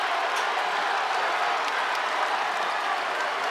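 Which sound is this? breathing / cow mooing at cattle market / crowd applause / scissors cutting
crowd applause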